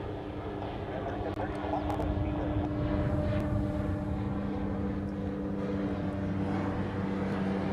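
A United airliner taxis at Honolulu airport, giving a steady distant jet rumble and whine that runs continuously throughout, with faint outdoor background noise.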